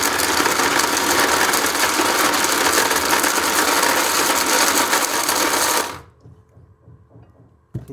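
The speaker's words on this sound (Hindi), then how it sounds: "मेरे हस्बैंड बनाएंगे एक खजूर का पेस्ट, वो भी मतलब मिक्सी में" A kitchen mixer grinder whirs loudly as it blends dates into paste, a dense continuous grinding roar that cuts off abruptly, leaving faint clatter and quiet.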